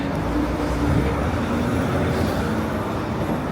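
City bus on a Manhattan street with noisy brakes, a loud, continuous rumble and grinding drone close by amid roadway traffic noise, with no talk.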